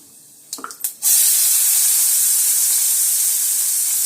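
After a few quick clatters, onion drops into hot oil already crackling with fennel seeds, setting off a sudden loud, sustained sizzling hiss that stays strong and steady to the end.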